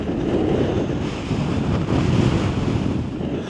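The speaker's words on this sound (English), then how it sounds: "It's seriously fucking windy." Heavy wind sweeping a Scottish mountain pass, roaring continuously and close against the microphone in surging gusts, nobody speaking.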